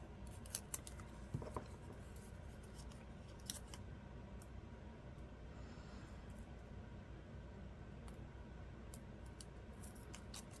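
Scissors snip quietly a few times while cutting off a piece of tape, faint and sparse over a low, steady indoor background.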